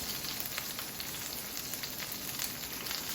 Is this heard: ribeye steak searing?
yes